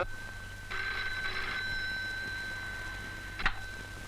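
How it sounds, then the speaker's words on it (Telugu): A telephone rings indoors in a film scene, with a steady electronic trill lasting about two seconds that then trails off, followed by a brief clatter, with no talk over it. "నాన్సీ, నీకు ఫోను."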